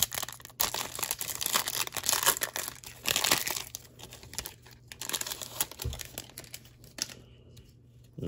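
Foil trading card packs are ripped and crinkled open by hand, a close, busy run of crackling, tearing and rustling that thins out toward the end.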